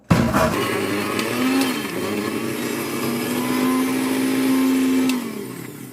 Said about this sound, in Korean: 자 배를 먼저 갈아줍니다